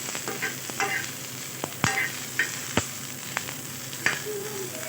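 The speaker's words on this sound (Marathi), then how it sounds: "आपल्या मिरच्या थोड्या थोड्या भाजल्या आहेत तर छान असं भाजू द्यायचं आहे आणि ह्याच्यामध्येच लसणाच्या पाकळ्या घालून घ्यायच्या आहेत" Green chillies and garlic cloves roast in a pan for a Marathwada-style green chilli thecha: a low, steady sizzle broken by several sharp pops and crackles, with short scraping stirs, close up and no voices.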